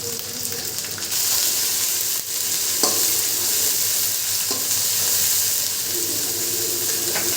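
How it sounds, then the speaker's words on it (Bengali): Spices with turmeric and chili powder stir-fried in a pan make a loud, continuous sizzle, broken by a few scraping knocks of the stirring utensil against the pan. No voices are heard. "মশলাগুলো কষিয়ে নেব।"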